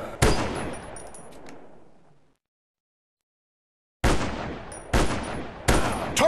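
Gunfire in the Zombies Fire Strike shooting game on Android: a sharp shot fading away, a silent gap, then three more loud shots in quick succession.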